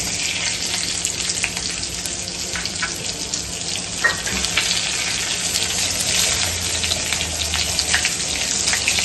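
Cumin seeds and whole garam masala, including cinnamon, sizzle in hot oil in a pan, a steady dense crackle that runs unbroken for about nine seconds with small pops over it.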